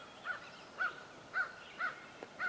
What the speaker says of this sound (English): Crows are messing with that turkey laying out there